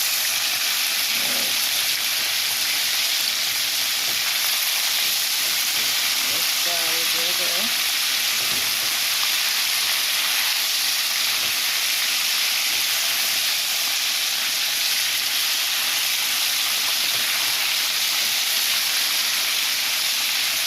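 Steady loud sizzling and hissing of chicken frying and browning in hot oil, continuous throughout with faint background sounds underneath.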